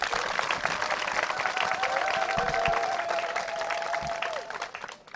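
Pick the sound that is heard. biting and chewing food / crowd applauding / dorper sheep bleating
crowd applauding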